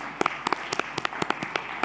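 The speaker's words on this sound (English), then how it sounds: "we can applaud all the speakers" Audience applause for speakers at an international humanitarian and security conference: a modest, fairly sparse round of distinct claps from a smaller crowd, heard at moderate distance in a hall.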